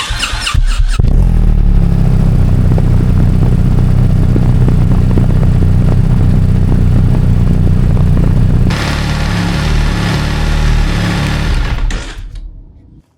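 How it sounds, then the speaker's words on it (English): A BMW R 1300 GS motorcycle engine starts with a few quick bursts, then runs loud and steady at idle to warm the oil, shifts tone partway, and cuts off at the end. "let's go ahead and fire the bike up. We'll let it run for a few seconds"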